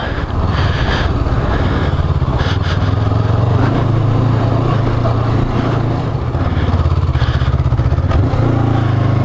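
A 2019 Honda CB500X motorcycle accelerating in second gear, its engine roaring loudly and continuously, revving steadily as it pulls, with rattling and wind noise throughout.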